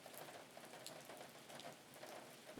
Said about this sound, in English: Oof, it's raining hard.